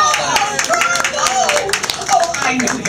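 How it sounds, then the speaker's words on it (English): Light clapping from a small audience at the Enchanted Tales with Belle attraction, a quick, patchy patter of hands that sits under a lively voice with music around it. "Good round of applause."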